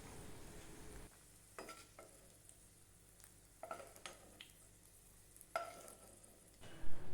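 Grains are stirred and roasted in homemade ghee for sweet pongal, giving a quiet sizzle with intermittent scraping strokes of a spoon against the pan.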